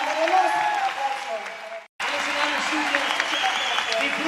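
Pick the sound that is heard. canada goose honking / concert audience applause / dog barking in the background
concert audience applause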